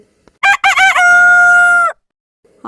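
A cartoon rooster crows a warning: a loud, close cock-a-doodle-doo opening with two short clucking bursts, then a long sustained call that cuts off sharply, with a brief sound starting just at the end.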